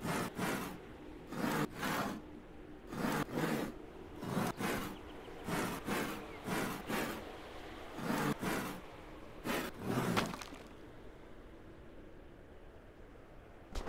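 A saw cutting wood in the farming game Farmer's Father, heard as about a dozen rasping back-and-forth strokes in a steady rhythm, fairly loud and close, ending in quieter room tone.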